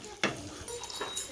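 Mint-coriander paste being sautéed over low to medium flame in a pan for Mughalai-style egg curry, with a few close scraping stir strokes and a soft sizzle between them.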